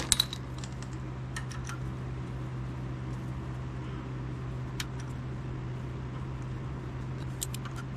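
Bolts come out of the cracked flex plate of a Ford 545a backhoe, giving sparse sharp metallic clinks and taps over a steady low hum, most clustered near the start and end.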